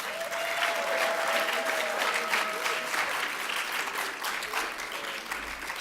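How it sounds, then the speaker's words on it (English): An audience at a high school math competition applauds the participants, a dense, sustained clapping that fills the room from start to finish, fairly loud and close, with a few faint voices mixed in. "a round of applause for all the participants today"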